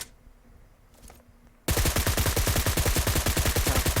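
Automatic weapon fire in the mobile game PUBG Mobile bursts in abruptly after a quiet moment, then rattles on as a loud, rapid, evenly spaced stream of shots until the end.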